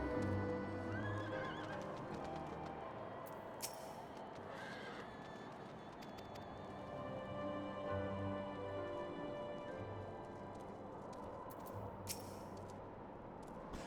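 A lightning horse mount whinnies in Final Fantasy XIV: Heavensward, the neigh rising over steady clip-clop hooves and a constant ambient game wash, with faint rain-like patter through the mix.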